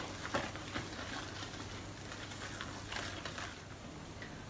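Beaten egg whites folded into sweet potato waffle batter with a double-ended spatula, a steady soft wet swishing and scraping throughout, faint and close.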